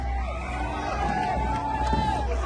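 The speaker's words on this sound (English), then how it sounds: "Supporters start chanting Kirk's name ahead of his appearance." Crowd of about 3,000 supporters at a political rally, chanting together ahead of a speaker's appearance; a steady, loud roar of massed voices with rhythmic chant swells and cheering throughout.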